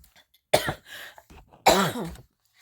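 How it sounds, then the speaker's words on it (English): Two harsh, close coughs about a second apart, each a sharp burst trailing off into a throaty rasp. "I've been coughing still a little bit"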